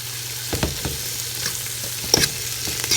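Mushrooms stirred in a sizzling frying pan, a close steady fry with scraping utensil strokes and small clicks against the pan, no talk.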